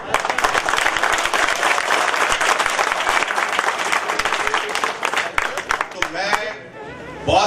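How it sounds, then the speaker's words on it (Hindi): An audience applauds in a loud, steady wave of clapping that tapers off near the end, with a voice talking over it. "ये तालियां इसलिए नहीं बज रही कि वक़ास साहब यहाँ मौजूद हैं।"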